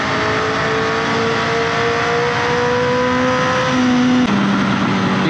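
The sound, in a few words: Honda CBR motorcycle riding through curves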